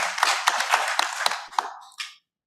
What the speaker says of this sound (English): Can we clap for the executive and those who were there before?